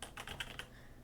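A password typed on a computer keyboard: about five quick, light keystrokes clicking close by in a short burst, with no voices.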